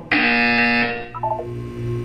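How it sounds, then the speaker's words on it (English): A loud electronic buzzer from the video game Portal 2 drones steadily for about a second, then fades into a softer stretch of lower game tones. "You will hear a buzzer. When you hear the buzzer, look down at the floor."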